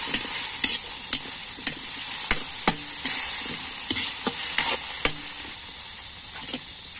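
Chopped papaya is stirred in a pot of hot water: repeated sharp scrapes and knocks of a utensil against the pot, irregularly spaced, over a constant soft bubbling hiss, with no voices.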